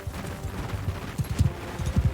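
Horse hooves clip-clop in a video game during a castle assault, a quick run of hoof beats over steady background noise, growing more distinct and punchy toward the end.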